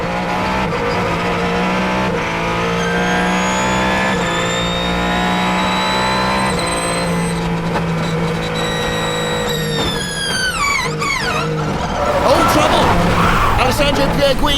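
A Le Mans Hypercar's engine drones loudly and steadily on the Sebring track, its pitch rising through gear changes near the end, with a commentator's voice over the car.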